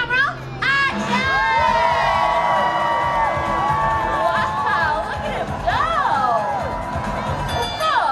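Loud crowd cheering and children shouting at a dog race at Universal Studios, with whoops and excited voices rising and falling continuously, close and dense throughout.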